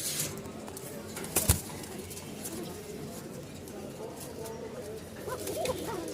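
Rajshahi Giribaz pigeons cooing at a Mirpur-1, Dhaka loft: low, soft coos rise and fall steadily against a constant noisy background, with a brief sharp knock partway through.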